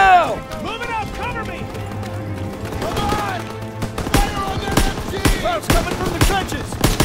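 Call of Duty: WW2 battle on PC with bursts of machine gun fire and scattered gunshots, growing sharper and louder in the second half, mixed with running footsteps and shouted voices.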